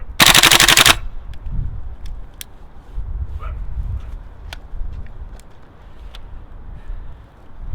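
A GHK Colt M4 Gen 2 gas blowback airsoft rifle running on CO2 fires a loud, rapid full-auto burst for about a second, then falls silent, leaving faint outdoor ambience with a few small clicks.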